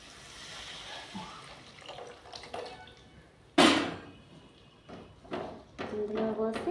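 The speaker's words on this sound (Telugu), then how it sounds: "ఇందాక నానబెట్టుకున్న చింతపండు పులుసు ఇందులో పోయాలి" Soaked tamarind juice poured into a pot of fish curry, giving a short splashing gush of liquid amid scattered kitchen clatter and small knocks.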